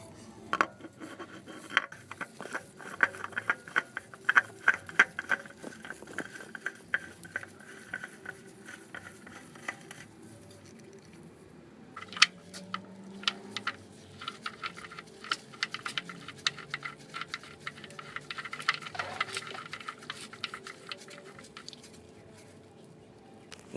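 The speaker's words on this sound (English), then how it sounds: "now I'm going to put the new oil filter and drain plug on" Metal parts clink and tap as a new oil filter and drain plug are fitted on a 2002 Dodge Neon, scattered small knocks and rattles up close with no talking.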